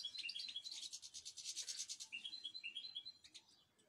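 Goldfinches chirp close by on a balcony, a quick, bright, rhythmic run of high twittering notes and scratchy trills that swells, briefly pauses and resumes, with no voices.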